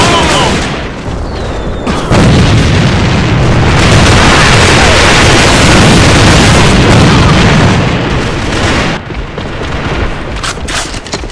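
A grenade going off in the shooter game A.V.A on the Hot Road map, a loud sustained blast and roar filling several seconds, with rumbling debris and battle noise around it, then fading back to lighter gunfire.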